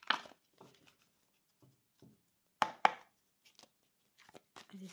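Tarot cards shuffled by hand, giving brief papery flutters and snaps in separated bursts with quiet gaps between them, close and fairly soft, with no talking.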